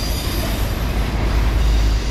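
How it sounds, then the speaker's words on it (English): Norfolk Southern 18N, a loaded autorack freight train led by locomotives 4423 and 4255, rolls slowly past close by, with steady low rumble, wheel squeal and rail noise throughout. "Norfolk Southern 18N. Loaded Autorack train."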